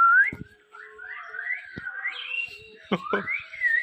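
Parrots at a bird farm, likely a macaw, cockatoo or African grey, give a run of rising and falling whistles, close and fairly clear, broken by a few sharp clicks and squawks.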